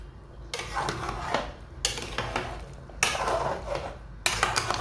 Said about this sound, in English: After going in with some smoked fish, I'll stir it.